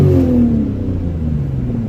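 A Lexus GS300 with its muffler deleted revs loudly, giving a deep, droning exhaust note with a strong, steady low rumble that slowly drops in pitch across the short burst.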